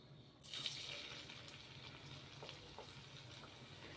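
Mung and chana dal bhajiya frying in hot oil, a soft steady sizzle that swells a moment after the batter goes in and then holds at a low, even level with small crackles, no voices.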